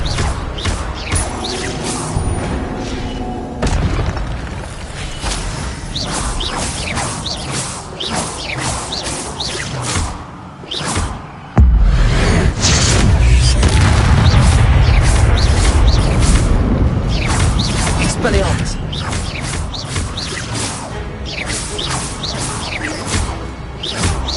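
Expelliarmus spell casting in Hogwarts Legacy combat, a dense run of magical whooshes, booming impacts, crashes and thuds, loud and close, with a heavier surge of blasts midway and no speech.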